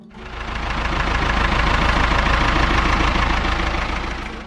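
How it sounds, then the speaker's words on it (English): A Ford 5000 tractor's diesel engine runs steadily at close range, giving a loud, even, knocking idle rumble that holds constant throughout with no voices. "the steady beat of a blue Ford drifting across the fields"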